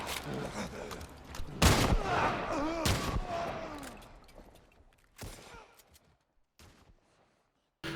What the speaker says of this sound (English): All the weapons also sound great and emphasise the punchiness and power of each weapon.